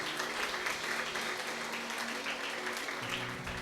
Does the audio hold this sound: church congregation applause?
yes